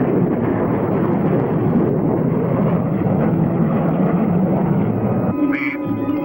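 A spacecraft engine sound effect throttling up, a steady loud broadband roar with low rumble throughout, ending with a brief higher tonal whine near the end.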